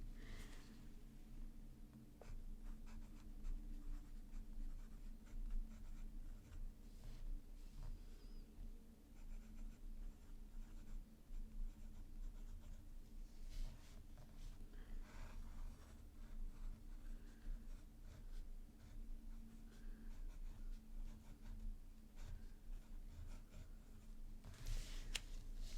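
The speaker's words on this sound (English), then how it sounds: "And so we'll do a little writing session here." An Esterbrook Estie fountain pen with a medium journaler nib writing on paper, producing a faint, continuous, close scratching with small irregular strokes over a soft background hum.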